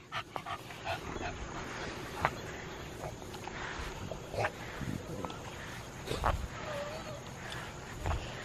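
A stocky stud dog at a kennel pants near the mic in a steady breathy rhythm, with occasional soft whimpers, while someone speaks commands and praise over it.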